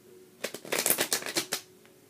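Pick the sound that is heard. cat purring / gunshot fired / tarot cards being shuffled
tarot cards being shuffled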